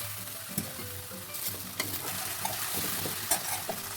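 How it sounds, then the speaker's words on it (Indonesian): Chopped spice paste sautéing in hot oil, a steady close sizzle with scattered stirring scrapes and clicks throughout, no voices. "Sekarang panaskan minyak secukupnya. Lalu tumis bumbu yang sudah dicoper tadi."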